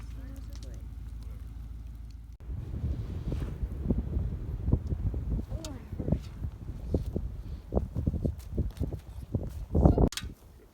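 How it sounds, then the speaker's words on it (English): Wind buffets the microphone in low rumbling gusts over dry grassland on a farm, while rustling steps and a person talking come and go over it. "It's a little windy."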